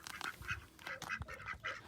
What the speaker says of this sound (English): We've also got ducks down here.